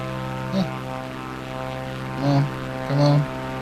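An aircraft engine in Microsoft Flight Simulator 2024 drones with a steady harmonic hum, briefly surging and stuttering three times.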